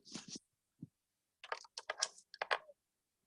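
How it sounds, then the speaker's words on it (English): Taps and clicks on a computer keyboard during an online training session come in short irregular bursts separated by brief pauses, close and fairly quiet. "can you hear all my tapping? We can hear you clicking."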